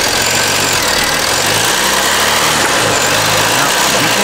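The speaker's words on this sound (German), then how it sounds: "Gut, jetzt gib mal ein bisschen Gas," A car engine revs under a little throttle, a loud, dense mechanical roar and rattle that stays close and continuous throughout.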